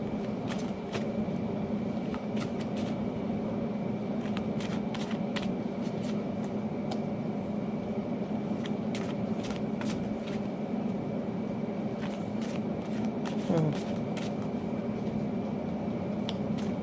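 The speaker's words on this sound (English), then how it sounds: "I'm going to keep shuffling." Soft crisp oracle card shuffling repeats in quick bursts over a low steady background hum, close by, with no talking.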